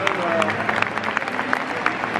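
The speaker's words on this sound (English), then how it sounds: "Every single Bolton fan is clapping this." Bolton football fans applaud in a stadium, a steady wash of distant crowd clapping with scattered individual claps standing out, under talk nearby.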